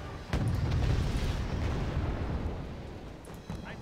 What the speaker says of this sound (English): Okay, it's starting to take mortar fire.